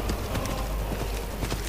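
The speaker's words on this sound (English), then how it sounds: "This horse is undead horse" Hooves of an undead horse in the video game Skyrim clop steadily in a quick rhythm over a dense, loud game soundscape.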